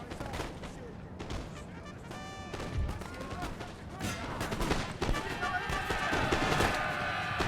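Musket volleys in Napoleon: Total War during the Battle of Borodino: dense, crackling rolling fire that builds and layers continuously, with distant booms and battlefield din throughout.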